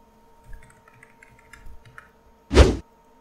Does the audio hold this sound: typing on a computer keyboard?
yes